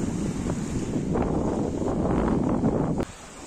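Strong wind buffets the microphone outdoors by a lake in a continuous rushing roar, with faint water lapping beneath, ending abruptly.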